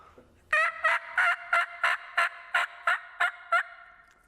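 A human voice imitates a turkey hen yelp using a mouth call, giving eleven evenly spaced, clear, nasal yelps in a steady cadence, close and alone.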